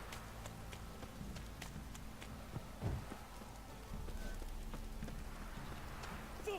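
Steady, heavy rain hisses throughout in The Witcher 3: Wild Hunt, with muffled horse hoofbeats clopping underneath.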